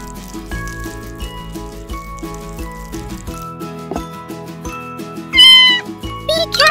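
A cat meows a few times, with louder, rising cries near the end, over steady cheerful background music in a kitchen where a dessert is being baked.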